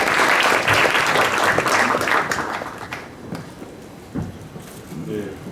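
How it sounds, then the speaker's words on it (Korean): Audience applause at a startup forum in May 2015 greets a presenter, dense clapping loud at first then thinning out and fading, with a voice speaking as it dies away. "네, 박수로 모셔볼게요."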